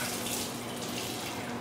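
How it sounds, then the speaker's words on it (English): Hot tap water runs steadily into a lab flask being rinsed, a continuous close splashing hiss with no voices. "We're going to want to wash our flask out with hot water."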